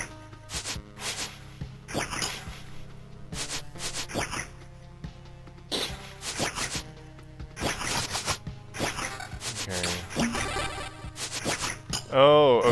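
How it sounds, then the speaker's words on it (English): Potion-drinking effect from the video game Loop Hero, heard among clicky, clinking game sounds in short bursts over a steady low hum, with a brighter bubbling flourish at the very end. "that new weird noise that I don't recognize is actually me drinking a potion"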